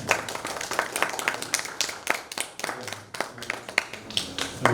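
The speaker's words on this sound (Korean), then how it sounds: "모두 큰 박수 부탁드립니다" Audience applause welcoming a physics professor before a lecture on quantum computing, a steady, moderately loud patter of many hands clapping with irregular sharper claps throughout.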